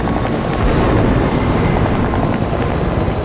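Helicopter in a video game, a loud, close rotor thrum and engine roar that holds steady for a few seconds with no speech over it.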